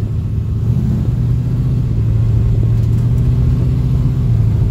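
A home-built car's engine runs loud and close, a steady low rumbling drone that rises slightly as it is driven through its gears.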